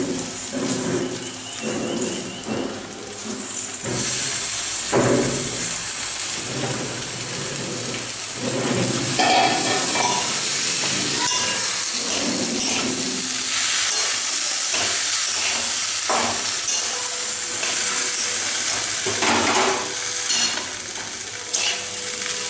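Raw rice hits a hot pan of fried cashews, raisins and nuts for pulao, then a long steady sizzle and hiss goes on with repeated scraping stirs, loud and close, with no talking throughout.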